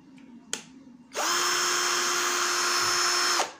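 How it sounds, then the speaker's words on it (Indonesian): An NRT PRO DC340 cordless drill whirs into a steady, even whine at its low speed setting (0–450 rpm), running close up for about two seconds before stopping, after a brief click beforehand. "Jadi bor ini sudah 2 speed ya, bisa speed 1 dan speed 2"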